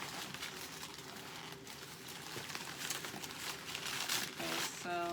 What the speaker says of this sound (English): I guess I should show you while I'm unwrapping it